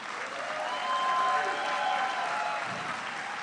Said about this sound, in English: a round of applause again for Shawnee Davis